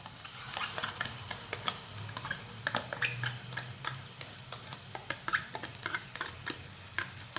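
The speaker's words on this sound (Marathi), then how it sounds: "दही मिक्स करून घेऊया" Yogurt is stirred into an egg fry masala in a pan, giving faint, irregular spoon scrapes and clicks over a low, soft sizzle.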